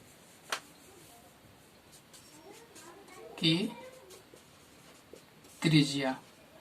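Chalk or marker writing on a board during a geography lecture, faint scratching strokes in short bursts, with someone talking between them in a quiet room.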